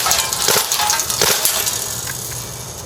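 A WE G36C gas-blowback airsoft rifle fires on full auto at a can. Loud, dense crackling bursts of shots fill the first two seconds, then trail off into a softer hiss.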